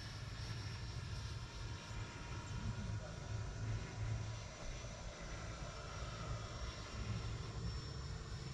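An E-Flite F-16 70mm electric ducted-fan RC jet flies in the evening, giving a steady, continuous whooshing roar at moderate distance that holds through the whole stretch with only slight swells in loudness.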